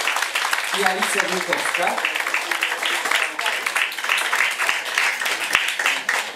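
An audience claps and cheers for a rock band's electric guitarist, a dense wash of applause running throughout while an announcer talks over it.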